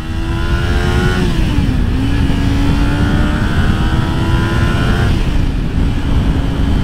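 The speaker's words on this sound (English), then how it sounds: "We're gonna jump on the highway right now. We're in second gear. We're rolling on the throttle." A Kawasaki Ninja 400 motorcycle accelerates onto a highway in second gear with the throttle rolled on, a loud, close, continuous engine drone whose pitch climbs steadily, dips at a shift-like break, then climbs again, with heavy wind rumble throughout.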